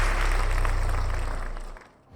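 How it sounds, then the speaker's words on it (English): Crowd applause at an award ceremony fills the air in a dense, steady roar of clapping that fades toward the end. "A big applause for the absolute best, the Golden Boy, Jude Bellingham."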